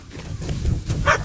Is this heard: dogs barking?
yes